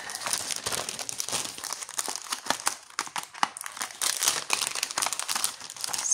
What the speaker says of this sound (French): Je vais tout déballer.